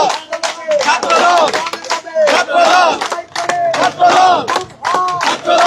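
Chanting from a Chhatra Dal student procession welcoming new students at Dhaka University, near and loud, with many voices shouting slogans together in rhythmic bursts and brief pauses.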